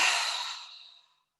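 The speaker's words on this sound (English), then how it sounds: "Deep breath in. And exhale." A deep exhale during a vigorous breathing exercise, one long breathy sigh that starts loud and close and fades out over about a second.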